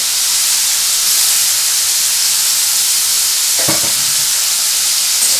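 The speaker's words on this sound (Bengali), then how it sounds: "দেখো এটা আমি একটু ভাজছি" A paneer mixture fries loudly in a pan, a dense close sizzle and steamy hiss running throughout, with a brief scrape of stirring partway through and no voices.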